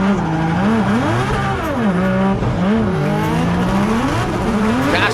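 A royal purple BMW drift car with a 2J engine at a Formula Drift Pro Championship event, engine revving hard in wavering pitches over constant loud tire squeal, close and continuous.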